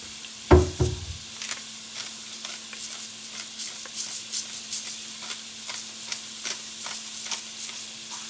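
Pork pieces brown in a hot pan with salt and pepper, sizzling steadily while a utensil stirs and scrapes them. A loud knock opens the sound, and a string of softer clacks follows across eight seconds, close and without talk.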